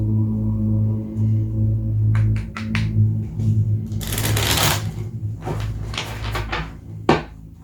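Crisp riffling bursts of tarot cards being shuffled, several quick flutters followed by a longer riffle, over a low steady hum.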